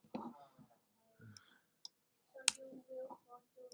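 Mouse clicks at a computer while a word-processing table is edited, a few sharp isolated clicks scattered among soft muttered speech, close and fairly quiet.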